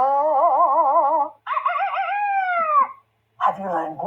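A voice imitates a rooster's crow in three wavering, drawn-out calls separated by short pauses, loud and close, the last one broken off abruptly.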